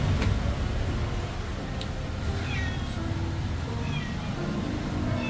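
A cat meows a few times indoors, fairly close, the short rising cries standing out over a low, steady background hum.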